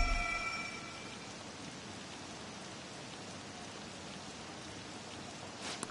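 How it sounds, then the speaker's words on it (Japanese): Steady rain in the video game Persona 5 Royal hissing down in a soft, even wash, with no voices and a brief brighter burst right at the end. "大した雨じゃねえだろ。"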